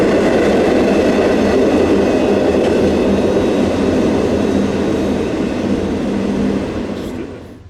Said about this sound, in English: With the ore train out of the block